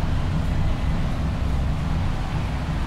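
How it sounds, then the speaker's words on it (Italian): BMW race car engine in Juiced 2 roaring steadily on a classic circuit, a loud continuous low-pitched drone with dense broadband road noise, no talking. "Ed adesso senti la macchina come urla"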